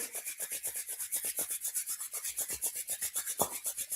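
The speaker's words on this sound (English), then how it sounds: "Rub your palms to generate heat." Palms rub together briskly in a steady back-and-forth rhythm, a close, soft, dry swishing repeated many times without talk.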